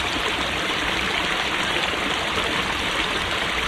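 Water trickling and splashing over the spill stones of a garden pond, a steady, even rush of broadband sound with no pauses, close and unaccompanied.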